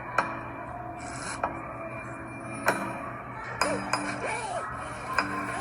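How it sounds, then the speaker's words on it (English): A zipper-like rasping sound within a song: brief, scratchy pulls and sharp clicks recurring every second or so over a quiet tonal backing. "That sounds like a zipper."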